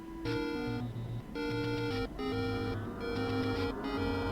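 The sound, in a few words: video game overworld theme music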